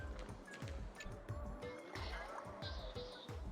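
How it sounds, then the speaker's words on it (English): Gushing, bubbling water rushes steadily as a toilet flushes itself in the video game Honkai: Star Rail, a quiet continuous swirl with no talk over it. "As you get close to the road, the toilet suddenly flushes itself."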